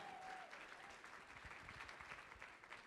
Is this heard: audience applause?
yes